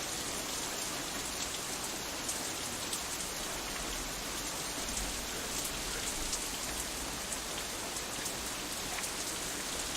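Steady rainfall from the Katawa Shoujo video game, a dense, even hiss of drops pattering on surfaces, soft and constant throughout with no voices.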